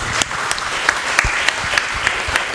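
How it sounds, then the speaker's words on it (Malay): An audience at a Buddhist repentance ceremony in a vihara claps steadily, a dense, loud round of applause with a few sharper claps standing out close by. "Tepuk tangan buat kalian semua."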